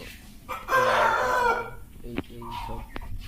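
Village chicken farm: a rooster crows loudly up close while hens cluck in short bursts around it, with some background noise.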